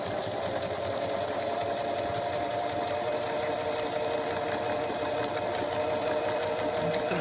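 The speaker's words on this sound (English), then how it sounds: "I'm just going to sew down each side here." A sewing machine stitches down the sides of a fabric project bag made from scraps, running continuously at a steady, close, even whir with no pauses.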